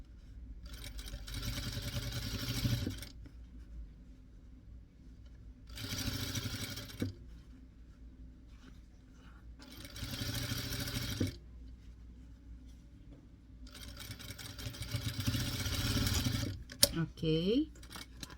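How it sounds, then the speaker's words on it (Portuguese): A sewing machine stitches a fabric Christmas snowman doll in four separate bursts of steady, fairly loud needle clatter, with short quiet pauses between runs. "Arrumo a parte de trás e sigo costurando."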